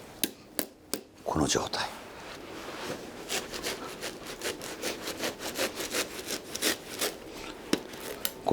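Repotting a shimpaku juniper bonsai, with scissors or a saw cutting away excess roots: repeated close rasping, sawing strokes in a steady rhythm. Brief speech is heard in places.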